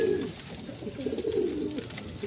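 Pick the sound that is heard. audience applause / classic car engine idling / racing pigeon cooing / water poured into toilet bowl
racing pigeon cooing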